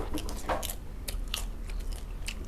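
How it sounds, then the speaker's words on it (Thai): Crispy deep-fried shrimp heads crunch as they are bitten and chewed, giving a string of sharp close-up cracks in an uneven rhythm with no talking. "ไม่ต้องแกะเปลือกก็ได้กัดไปเลยอะ เพราะว่าเธอทอดแล้วมันกรอบอ่ะ"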